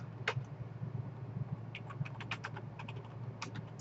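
Keys clatter on a Commodore 64 keyboard in quick, irregular bursts of close clicks, with a steady low hum beneath and no speech.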